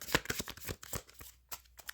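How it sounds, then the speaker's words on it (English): A deck of oracle cards being shuffled by hand during a reading, heard as a close series of soft papery riffling and sliding bursts in an uneven rhythm, with no voices. "I've been shuffling for a while and it clearly does not want to come out"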